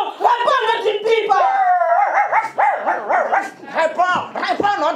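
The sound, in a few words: performer imitating a dog barking on stage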